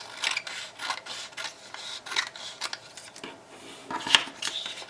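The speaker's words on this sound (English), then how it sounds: "So I'm going to cut along the one that I made a pencil line on first." Scissors snipping along a pencil line through paper being cut into strips for a paper pumpkin craft, giving a series of soft, close crisp cuts and rasps at an uneven rhythm with no talking.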